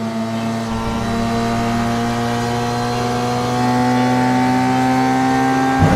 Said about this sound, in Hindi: वह बाइक की स्पीड और बढ़ाकर उस सुनसान रास्ते से निकलकर अपने घर की ओर